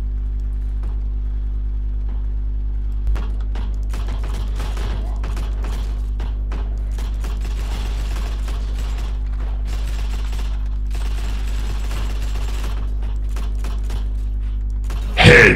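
Distant gunfire crackles through a Heroes and Generals video game battle, scattered rapid shots and bursts over a constant low hum, with a louder burst at the very end.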